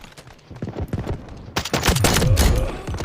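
Rapid bursts of video game gunfire crackle loudly, with several overlapping volleys and a sweeping mechanical whine partway through.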